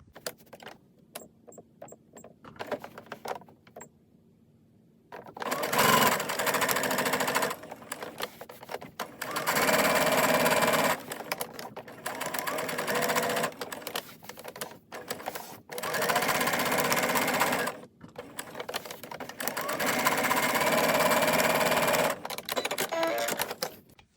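A sewing machine stitches around the edge of layered fabric postcards in several loud bursts, stopping and starting between runs, with quiet pauses and faint handling noise in the gaps.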